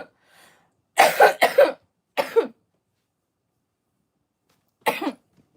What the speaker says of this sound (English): my god, that cough